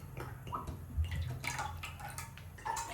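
Cooking oil pours generously into a home frying pan ready for chicken, a quiet liquid trickle and glug with faint drips and no voices.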